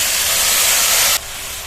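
Spice paste mixed with water hits hot oil in a pan, giving a loud, close, steady sizzling hiss that cuts down sharply to a quieter sizzle after about a second.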